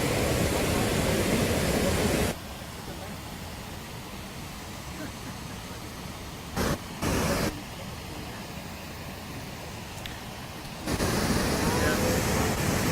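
Steady broadband roar of a waterfall on the Brooks River, loud and continuous, dipping for several seconds as if briefly muffled before returning at full strength; no voices.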